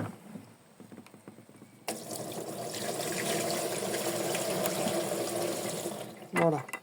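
Water poured from a bucket to rinse a part from a Brandt washing machine, a steady close splashing and trickling that starts after a few clicks and handling noises, then ends with a short clatter.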